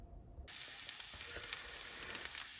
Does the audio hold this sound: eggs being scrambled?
yes